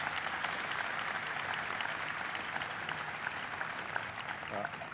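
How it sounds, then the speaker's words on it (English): Applause for Ken Salazar fills the room as a steady, even wash of clapping from a large audience, holding at a constant level throughout. "So please give him a big round of applause."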